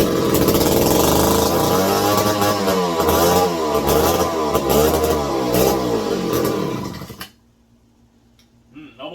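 A crusty barn-find McCulloch 250 chainsaw with low compression and a suspected fuel or air-leak problem runs loud and rough, its engine surging unevenly for about seven seconds before cutting out abruptly into near silence.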